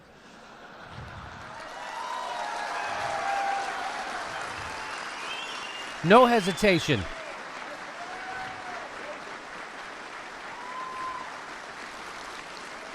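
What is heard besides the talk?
room full of police officers applauding, hooting and hollering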